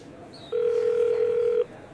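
A single steady electronic phone dialing tone sounds for about a second against quiet background, then stops.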